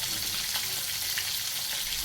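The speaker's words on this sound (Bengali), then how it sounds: "সাদা তেলের মাছ ভাজা" Fish fries in white cooking oil in a hot pan, giving a steady, dense crackling sizzle with small pops, close and continuous, with no voices.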